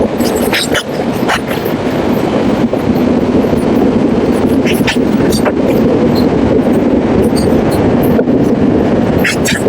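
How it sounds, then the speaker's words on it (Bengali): The Kirandul Express pulls out of Shivalingapuram station with a loud, continuous rumble and rhythmic wheel clatter heard from close by. A dog barks now and then, and voices are faintly heard. "শিবলিঙ্গপুরম থেকে ট্রেন ছাড়ছে"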